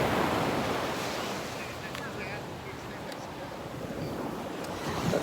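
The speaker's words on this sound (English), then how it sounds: "how beautiful are these waves" Ocean waves wash steadily onto a beach close to the water's edge on a morning shoreline, a broad continuous surf roar with wind buffeting the microphone, swelling slightly at the start and end.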